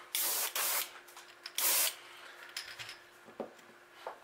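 An airbrush sprays pearl white Testers paint onto a crankbait lure in short, close hissing bursts separated by brief pauses.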